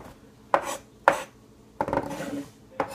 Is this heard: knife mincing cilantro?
yes